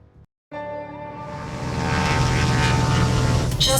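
An aircraft lands in the video game Brassheart: after a brief cut to silence, a propeller-like engine drone swells in and builds to a loud, steady, rumbling roar, with a sharper burst near the end.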